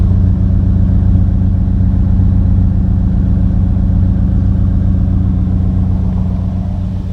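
A Chevy pickup truck's engine idles with its muffler rumbling, a deep, steady, loud exhaust drone heard close and unbroken throughout, with no voices over it.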